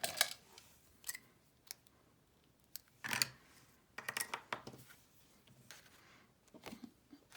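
Scissors cutting white baker's twine: several short, crisp snips spaced irregularly, close up and fairly quiet, with soft handling rustles between them and no talk.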